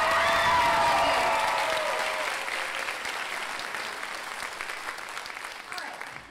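A high school theater audience applauds the pit orchestra at a closing-night musical, a full, crowded round of clapping that starts loud and slowly tapers, with faint musical tones under the first seconds.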